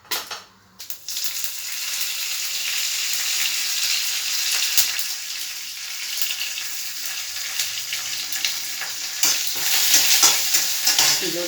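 Curry leaves, green chili and mustard seeds sizzle and crackle steadily in hot oil for a coconut chutney tempering, a loud continuous frying hiss with occasional stirring scrapes and sharper pops near the end.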